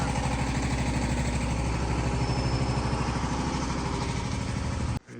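A generator engine runs steadily nearby, a loud, even mechanical drone with rapid regular pulsing that holds for about five seconds before cutting off abruptly at the end.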